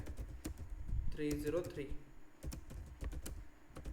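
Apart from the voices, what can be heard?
typing on a computer keyboard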